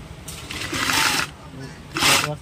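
Sewing machine stitching leather hand gloves, two loud bursts of running stitching separated by a short pause, close up.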